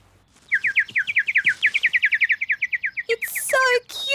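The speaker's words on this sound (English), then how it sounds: "And it sings so sweetly. It's a great little bird." A small cartoon bird sings a rapid run of bright, evenly spaced chirps, close and clear, followed by a few higher, sharper tweets at the end.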